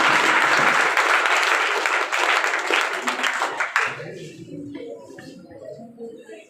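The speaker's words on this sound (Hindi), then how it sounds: "और आप लोग ताली बजा दीजिए।" An audience at a school ceremony honouring matriculation students claps loudly in sustained, dense applause that fades out after about four seconds, leaving scattered faint claps and murmurs.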